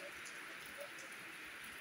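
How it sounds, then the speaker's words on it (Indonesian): Soft, even rainfall at a hilltop campsite in Pancawati, Bogor, a faint, steady patter and hiss lasting the whole moment with no voices. "kita rest dulu karena hujan"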